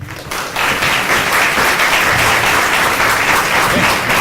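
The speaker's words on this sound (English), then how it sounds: "Please join me in extending a warm round of applause to Mr." An audience at a fireside chat during a college entrepreneurship summit applauds a guest speaker, a dense sustained round of clapping that swells after a brief start and holds steady and loud throughout.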